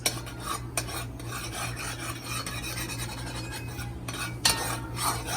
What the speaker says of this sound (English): If you turn in the spoon like this, you will feel the sugar weight on the spoon.